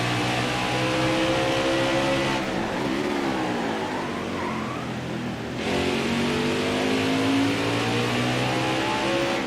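A NASCAR Heat 5 Xfinity Series race car at Road America roars through its gears, the loud engine note climbing and falling with shifts and revs, steady and close, with a brief dip midway before pulling hard again.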